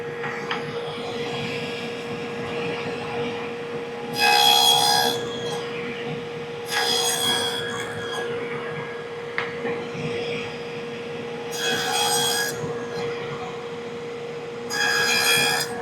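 A wooden tenon is cut by hand with a saw in four short bursts of rasping strokes, separated by quiet pauses over a steady low hum.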